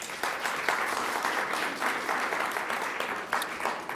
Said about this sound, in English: So please give them a round of applause before they start.